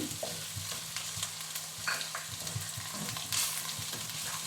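Chili and coriander powder are stirred into chicken frying in a pan, with a steady close sizzle and repeated scraping stir strokes.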